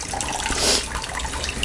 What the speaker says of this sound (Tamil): இப்போ இன்னும் கொஞ்சம் தண்ணி ஊற்றிட்டு